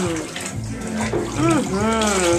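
Water runs steadily from a tap into a tub during a dog's bath, a close, full splashing flow under a person's voice speaking with rising, sing-song tones.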